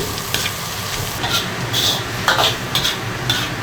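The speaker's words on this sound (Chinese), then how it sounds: "大火给它炒香" Lamb offal is stir-fried over high heat in a wok with oil, ginger and bean paste, a loud close sizzle punctuated by quick metallic scrapes and clinks of the spatula, no speech.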